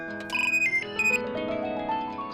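Mobile phone ringtone chiming alone in a home kitchen, a bright repeating electronic melody at moderate volume with no talk over it.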